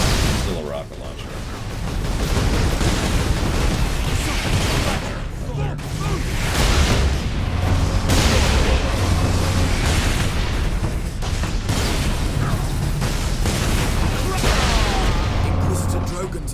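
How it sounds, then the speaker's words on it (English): Rocket launcher explosions boom repeatedly through heavy gunfire in the video game Space Marine, a loud, dense barrage of blasts and rumbling with voices mixed in. "Still a rocket launcher."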